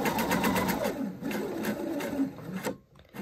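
A sewing machine runs a rapid, even burst of stitches while sewing a zippered pocket pouch, close and steady, then slows and stops near the end with a brief pause before a last few stitches.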